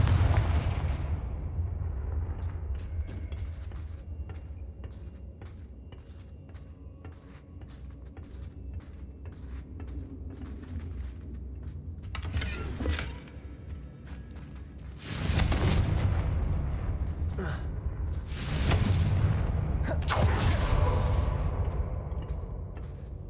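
Fire spell explosions in the video game Hogwarts Legacy, several heavy booming blasts with rumbling tails separated by quieter stretches of low game ambience and scattered clicks, loud and close.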